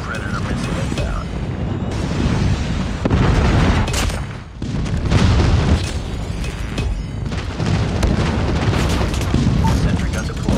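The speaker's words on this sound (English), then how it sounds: "Friendly airstrike incoming." Airstrike explosions in Call of Duty: Mobile Ground War on the Satellite map, a string of loud booming blasts and gunfire layered over continuous battle noise, with a voice announcing game events.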